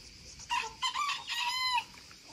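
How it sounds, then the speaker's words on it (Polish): A rooster crows once, a strained, fairly faint cock-a-doodle-doo lasting over a second against a quiet outdoor background. "wiem, że to jest chyba miniaturowy kogucik"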